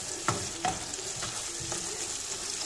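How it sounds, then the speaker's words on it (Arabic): Peppers and onion frying over medium heat in a pan, a steady broadband sizzle with a few soft stirring scrapes and clinks, close and continuous with no talking. "باش الفلفل طيب وتذوب مع البصلة"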